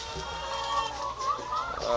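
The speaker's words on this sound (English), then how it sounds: "happy chickens," Several free-range chickens on an organic farm cluck and murmur close by in a steady, busy chorus outdoors near a paddock, with soft talking mixed in.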